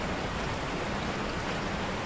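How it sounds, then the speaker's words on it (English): Steady, dense hiss of rain falling everywhere in a Resident Evil 4 VR game level, a continuous broadband wash with no breaks and no voices. "Oh, why does it have to be raining everywhere?"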